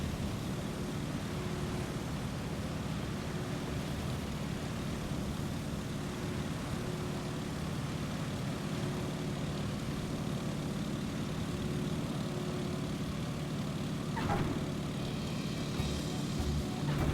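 Boeing Stearman biplane in Microsoft Flight Simulator, its radial propeller engine droning steadily and loud for the whole stretch, a broad constant hum with a brief flutter near the end and no voices.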